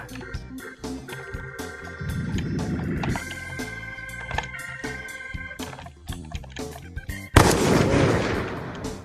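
Gunfire in a 1v1 shooter game mode, including a twelve-gauge shotgun, with sharp shots scattered through clicks and music-like tones, ending in a loud burst.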